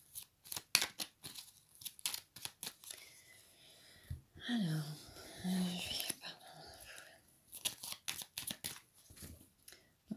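Crisp card handling as a tarot deck is cut and shuffled, with quick papery snaps and slides coming in bursts around a soft spoken voice in the middle.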